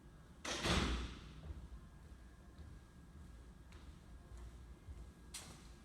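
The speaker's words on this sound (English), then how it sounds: "close that door first" An indoor door swings shut with a single firm thud near the start, followed by quiet room tone and a few faint knocks.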